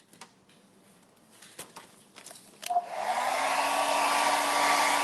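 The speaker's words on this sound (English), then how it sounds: "I want you to come back either with a hairdryer or a heat gun" A few light taps and clicks, then a hair dryer switches on and blows with a steady, loud whoosh to the end, used to remove bubbles from freshly painted faux marble countertops.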